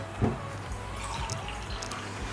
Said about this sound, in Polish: wlewamy sobie tutaj o, przyfiltrowaną wodę